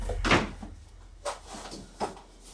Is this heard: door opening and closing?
yes